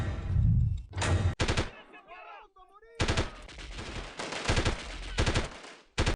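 Gunfire from the Delta Force video game played on a 1998 IBM ThinkPad 390E laptop running Windows 98, with loud rapid bursts that start and stop in quick succession and a short gap near the middle.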